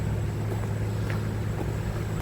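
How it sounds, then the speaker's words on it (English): Diesel pumps run with a steady, high-pitched mechanical whine over a continuous low drone, heard from just outside a pump house. "That's the sound of the diesel pumps running."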